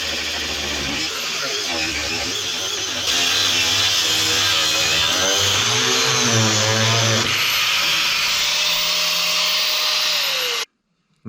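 Angle grinder cutting on a Yanmar mini excavator, a steady loud whine with shifting pitch as the disc bites and eases, running for about ten seconds before stopping abruptly.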